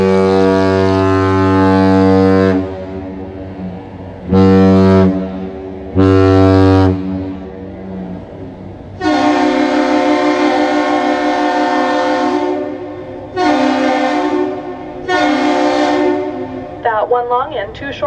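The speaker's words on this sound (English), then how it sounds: "The vessel initiates the greeting with one long blast followed by too short, and the bridge responds with the same thing." Captain's salute on the ship horn of the small vessel American Mariner departing Duluth loaded with wheat: a deep, loud horn gives one long blast and two short ones, then the full sequence sounds again in reply.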